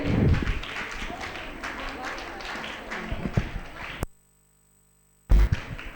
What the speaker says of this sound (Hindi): आपकी तालियां बजती रहनी चाहिए